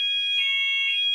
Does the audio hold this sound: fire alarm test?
yes